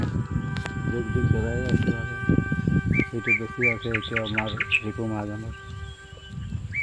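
Several bright bird chirps repeat in a quick series over a low rumble and a voice talking underneath.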